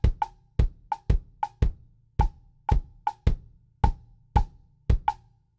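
Salsa clave and kick drum struck together as one in a metal-salsa polymeter groove: a steady run of about a dozen crisp, ringing wooden clicks fused with deep thumps, close and loud with no talking.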